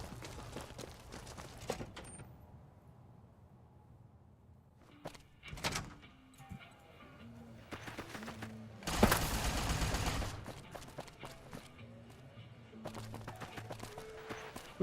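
Gunfire in Fallout: New Vegas, with scattered sharp shots and a louder sustained burst near the middle amid game clatter, door-like thuds and faint tonal sounds.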